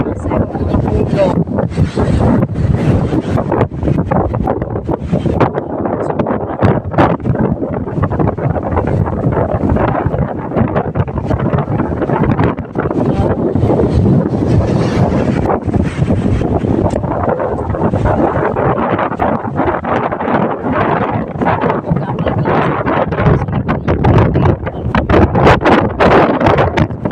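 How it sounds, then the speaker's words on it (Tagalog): Strong wind roars and buffets the microphone continuously, loud gusts rising and falling throughout, during the amihan northeast monsoon at a resort where trees sway. "Sobrang lakas ng hangin."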